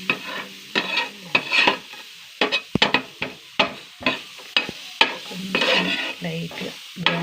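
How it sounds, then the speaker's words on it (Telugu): Chopped onions sizzle in a hot pan for onion dosa as a spoon stirs and scrapes them in repeated close strokes over steady frying crackle. "ఇప్పుడు మనం ఆనియన్ దోశ కోసం ఫస్ట్ ఆనియన్ని ఫ్రై చేసుకుందాం"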